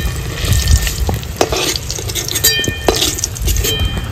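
Potatoes fry in hot oil with a steady, close sizzle, while a spatula stirs them in scraping strokes and gives occasional light clinks against the pan.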